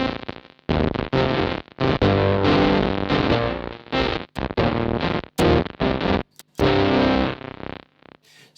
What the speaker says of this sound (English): It's starting to act a little bit more like that kind of bit crushing effect.